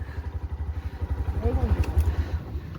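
Motorcycle engine idling with a steady, throbbing low pulse close by, as a faint voice sounds briefly over it.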